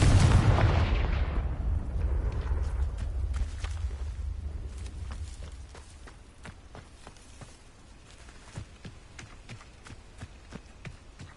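A Confringo spell explosion in Hogwarts Legacy, a heavy booming blast fading into a low rumble, followed by scattered light footsteps and small impact clicks.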